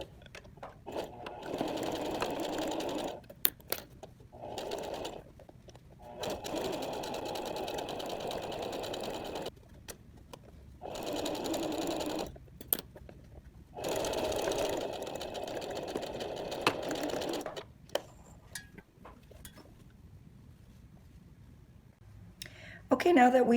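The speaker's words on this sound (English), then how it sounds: "Top stitching, I'm going to use my narrow zipper foot because I just want to catch the edge as close as I can" A sewing machine top stitches a messenger bag with a narrow zipper foot, whirring in long steady runs broken by brief stops, close and fairly loud, with no talking.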